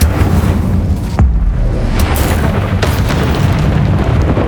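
Incendio fire spell cast in the video game Hogwarts Legacy, a loud booming blast with a sharp burst near the start of the second and fiery crackling rumble throughout.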